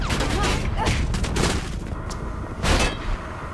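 Enemy guards open fire in Mirror's Edge, a loud close fusillade of shots in clustered bursts with sharp cracks punctuating a rumbling background.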